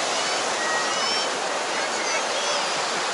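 Sea waves at Calangute beach in Goa make a steady, broad hiss of surf that runs unbroken and fairly close throughout, with no distinct voices on top.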